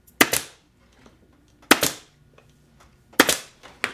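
A pin stapler fires staples while a chair is being restored, giving three sharp, loud snaps about 1.5 seconds apart, with a smaller click after the last one.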